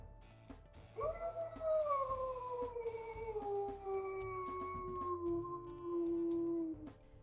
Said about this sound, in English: we'll listen to his howls